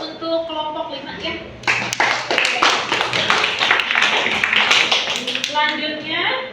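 Classroom applause for a student group in a school biology lesson: a burst of many hands clapping, fairly close and lively, lasting several seconds, with voices talking before and as it fades.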